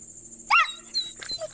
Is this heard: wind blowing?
no